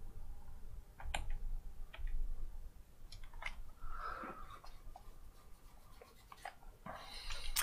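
A computer keyboard clicks under fairly quiet, irregular typing, with scattered keystrokes and short bursts over a soft background hiss, heard close up during a play of the 1980 Infocom text adventure Zork I.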